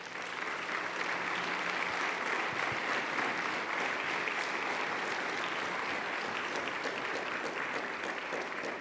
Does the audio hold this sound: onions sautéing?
no